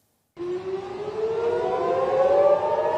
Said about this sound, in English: Air raid sirens sound over central Israel, announcing incoming Iranian missiles